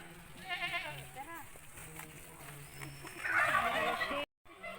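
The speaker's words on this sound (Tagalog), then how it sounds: "oh, may kambing pa." A goat bleats outdoors at a hillside camp site, its wavering cries mixed with people chatting nearby and other farm-animal calls.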